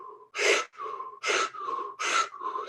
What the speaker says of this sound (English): Continue those 30 to 40 breaths, and really focusing on the inhale and having a relaxed exhale.